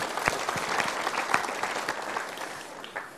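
An audience at a motivational seminar clapping, a steady rain of many hands with a few sharper individual claps, fairly distant and even throughout.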